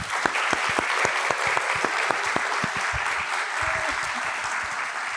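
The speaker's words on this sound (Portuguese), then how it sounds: "Queria pedir uma salva de palmas" An audience applauds a professor who has just entered, a dense, even patter of many hands with a few louder claps up close, steady and moderately loud throughout with no talk over it.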